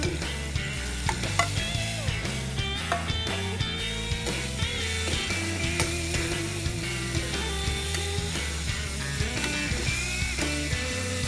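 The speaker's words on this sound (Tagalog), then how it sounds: "then we're ready to add our chicken" Chicken browning in a pan with softened onions and garlic gives a steady, close sizzle with frequent small crackles and occasional stirring scrapes, running throughout over a background music layer.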